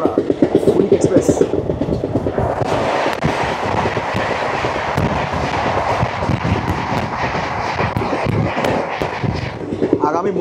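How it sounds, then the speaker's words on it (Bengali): The Radhikapur–Howrah Kulik Express, train 13054, arrives with a steady, loud rolling rumble and clatter of wheels on track that carries on throughout. "চলে আসে ট্রেন নাম্বার 13054 রাধিকাপুর থেকে হাওড়া কুলিক এক্সপ্রেস।"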